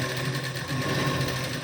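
A sewing machine stitching the lining of a lehenga blouse runs in a steady, fast, close mechanical whir, continuous throughout with a brief slight dip.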